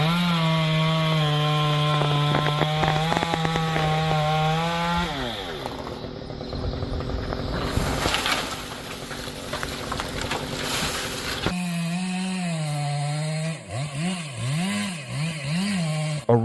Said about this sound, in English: The razor-sharp chainsaw slices through the wood like a knife through butter